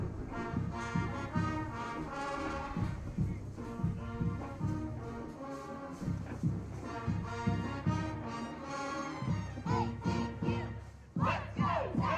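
A stadium crowd of Tech fans chants and yells a football cheer at a Wonder Boys game against Harding, a loud, continuous mass of voices rising and falling in rhythmic bursts for the whole stretch.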